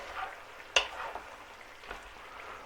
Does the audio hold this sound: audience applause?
no